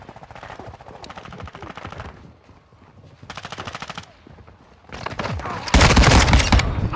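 Gunfire from the video game Call of Duty: Modern Warfare 2 comes in rapid automatic bursts, growing louder and denser toward the end, over a busy game soundtrack.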